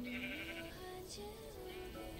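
Sheep bleating in Minecraft, a pair of wavering game bleats layered over steady background ambience, heard alone at moderate volume.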